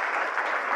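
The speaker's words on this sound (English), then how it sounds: "So please give a big round of applause to" A brief burst of audience applause at a university teachers' academy anniversary seminar in Helsinki, dense clapping from a seated crowd, fairly close and loud, with no voices over it.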